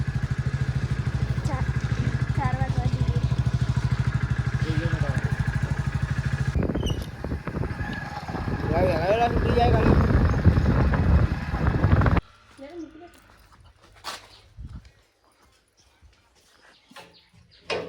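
A motorcycle engine runs steadily and loud for several seconds, with people talking over it, then cuts out, leaving quiet outdoor ambience with faint birds.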